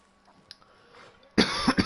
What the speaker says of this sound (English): Sorry for the constant coughing.